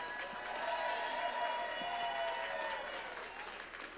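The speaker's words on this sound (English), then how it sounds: "Give them a round of applause, guys." Convention audience at the BABSCon 2017 closing ceremonies giving the security team a round of applause, steady moderately distant clapping with some cheers, fading slightly toward the end.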